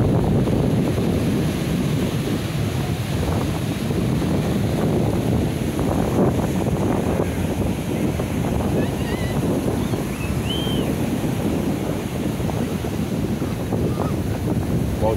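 Ocean surf at Tombo Beach in Guarujá, Brazil, a steady loud wash of breaking waves blended with heavy wind buffeting on the microphone, continuous for about fifteen seconds.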